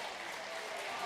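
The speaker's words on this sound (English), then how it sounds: "Thompsonville fans come to their feet, applaud the referee" Crowd of Thompsonville fans at a regional semifinal basketball game rising to applaud the referee, a steady broad wash of clapping throughout with some crowd noise.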